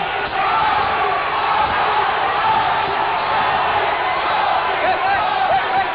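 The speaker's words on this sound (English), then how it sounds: "Crowd cheering Tony on." A boxing crowd at a title fight roars and cheers continuously, a dense wall of voices sustained throughout at steady loudness.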